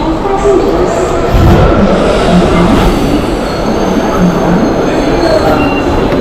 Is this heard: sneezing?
no